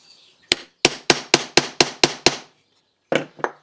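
A metal hammer taps a pin on a folding knife blank in a workshop, seven sharp evenly spaced strikes, then a pause and three more quick taps, close and clear.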